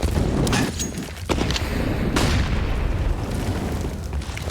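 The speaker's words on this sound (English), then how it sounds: "Ooh, that nade." A grenade explosion in CS:GO on the Inferno map during a Fnatic vs. Heroic pro league match, heard as a loud boom amid dense, continuous game noise with several sharp bursts throughout.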